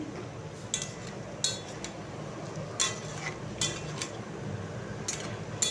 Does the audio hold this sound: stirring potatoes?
yes